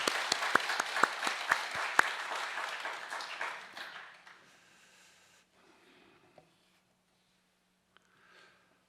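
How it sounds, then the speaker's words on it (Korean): Applause from a church congregation for the organ and piano players: dense clapping that fades out over about four seconds, followed by near silence with faint breaths. "박수로 격려하겠습니다."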